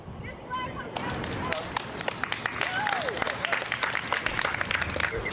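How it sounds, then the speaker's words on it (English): A small outdoor crowd claps and cheers, scattered sharp claps over a steady murmur of voices at a moderate distance. "greeted with cheers from onlookers after returning back to the ground"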